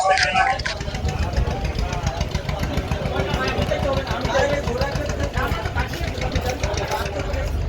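Engine of a passenger launch pulling away from the Dhaka ghat on a trip to Bhola, a steady rumbling drone that runs throughout with busy background chatter and voices.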